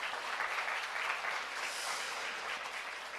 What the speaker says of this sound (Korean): 여러분들 이 함께 계신 분들에게 큰 박수 부탁드리겠습니다